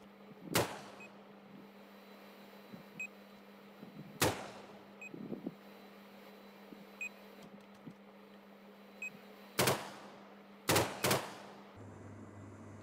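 AK rifle fire in a video game: five sharp single shots spread across the stretch, with a close pair near the end, over a low steady hum and faint electronic beeps.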